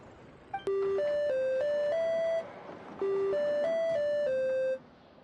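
Musical prompt tones from a puzzle mechanism in Genshin Impact: two clean, bell-like melodic phrases of four or five sustained notes each, played one after the other over faint background hiss, with no speech.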